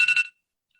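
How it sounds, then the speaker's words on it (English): A mobile phone alarm gives a brief, bright electronic chirp of rapid pulsing tones, lasting about a third of a second before cutting off to silence. "Sorry about that. That was my alarm."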